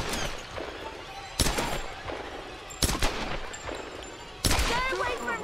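Gunfire in the video game Tomb Raider: three loud close shots at irregular intervals, each a sharp crack with rattling, debris-like decay, over a busy background of game noise and shouting.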